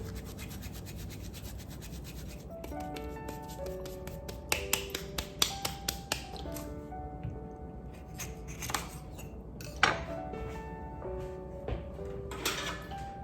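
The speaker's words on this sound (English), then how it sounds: "So I'm rubbing the oils out of the pepper flakes." Dry red pepper flakes are rubbed between bare hands in a kitchen: close, crisp rustling and crackling with sharp little ticks, spread irregularly over a dozen seconds while faint background music plays.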